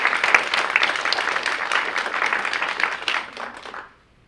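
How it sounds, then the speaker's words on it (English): Audience applause from a crowd at a live interview event, steady dense clapping for about four seconds before cutting off abruptly. "Let's do a big applause there."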